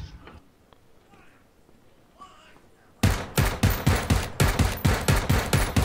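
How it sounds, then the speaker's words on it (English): Gunfire in the battle royale game PUBG starts suddenly halfway through as rapid, loud, evenly spaced automatic shots, after a quieter stretch of faint background sounds. "I was shooting at a guy but missed"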